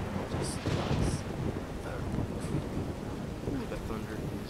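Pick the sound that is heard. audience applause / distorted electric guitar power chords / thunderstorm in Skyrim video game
thunderstorm in Skyrim video game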